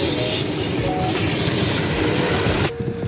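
Indian Railways train running alongside a road in Odisha, a loud close rumble of wagons with squealing wheels and rattling, then cutting off abruptly near the end into a quieter hum.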